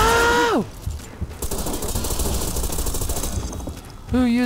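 Sustained rapid machine gun fire rattles in the online shooter Ghost Recon Online, a dense continuous burst of gunshots between short tonal game effects at the start and end.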